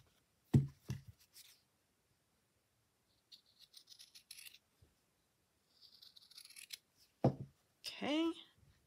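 Scissors snip fabric for a handmade needle book in short crisp bursts of cutting, close by and fairly faint, with a voice briefly heard near the end.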